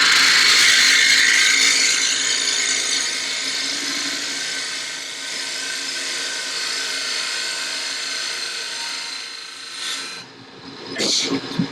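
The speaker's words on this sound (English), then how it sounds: "You can actually get a bevel ribbon cut across the bottom with this gouge" A wood gouge cuts a bevel across the bottom of a box spinning on a lathe, giving a continuous close hiss and scrape that fades gradually before a few short scraping bursts at the end.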